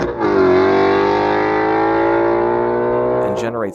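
A stock 2017 Ford Shelby GT350 with a 5.2-liter Voodoo V8, an engine that revs past 8,200 RPM, holds a loud, near, sustained high-rev wail that climbs slightly, stays steady, then drops off at the end.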